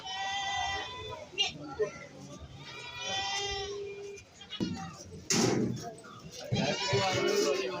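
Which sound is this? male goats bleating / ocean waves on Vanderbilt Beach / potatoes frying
male goats bleating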